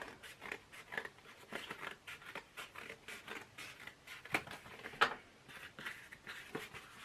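Scissors snip through headdress material, a quiet run of short crisp cuts at an irregular pace, close up, with no talk.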